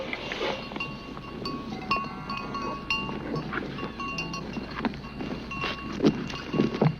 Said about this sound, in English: So many cows, they're coming, and the milk is coming.